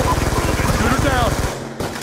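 Rapid automatic gunfire from Call of Duty Black Ops 2 rattles in a steady, loud, close burst for about a second and a half, then cuts off abruptly into quieter game ambience.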